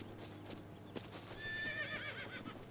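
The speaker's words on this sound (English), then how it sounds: "I'm gonna get my horse to come over here" A summoned horse in The Legend of Zelda: Breath of the Wild neighs and whinnies while its hooves clip-clop nearby, the rhythmic steps running under the call over a quiet game background.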